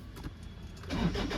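A Toyota Fortuner with a no-start problem cranks, its starter churning up loudly partway in after a quieter opening, close by and with no talk over it.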